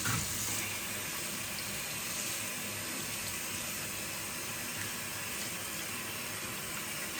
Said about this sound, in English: Now we'll give her a good rinse.